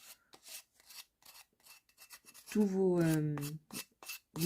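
Plaster objects are sanded by hand in short, rhythmic rasping strokes, close and fairly quiet, with a brief tonal voice-like sound partway through.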